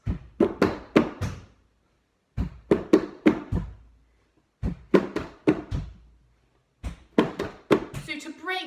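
A rhythm of hands tapping a tabletop in four short bursts of sharp, close knocks, each phrase separated by a brief pause, with a voice starting at the very end.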